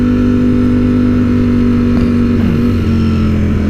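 Ducati StreetFighter V4S and Ducati 1299S Panigale motorcycles cruising on a hill run, a steady loud engine drone with a constant low hum and no voices.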